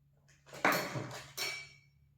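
A small metal tempering pan for seasoning, a new store purchase, clanks and rattles as it is picked up and turned over, giving two close handling bursts of bright metallic clatter with no one speaking.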